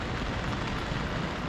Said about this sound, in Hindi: देखो लगातार बारिश आ रही है आधे घंटे से